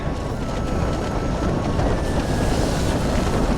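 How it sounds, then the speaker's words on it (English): Strong wind roaring and buffeting against a tent at a high camp on Everest, a loud, continuous rushing roar that fills the whole clip. "about half an hour later, wind picked up dramatically"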